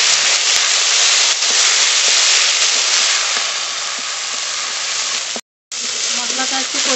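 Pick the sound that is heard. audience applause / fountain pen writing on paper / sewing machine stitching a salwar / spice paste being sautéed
spice paste being sautéed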